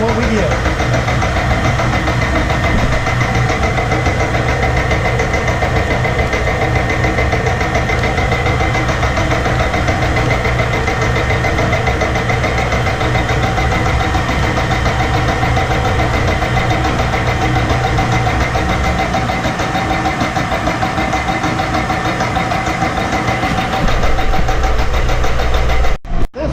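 A metal-turning machine makes a long 0.020-inch cut along the side of a boring bar holder made to fit a BXA quick-change tool post, giving a steady loud mechanical drone and hum that continues without a break, with a voice talking over it.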